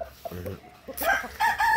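A few chickens with chicks cluck and squawk nearby in short, uneven bursts, with a voice briefly mixed in.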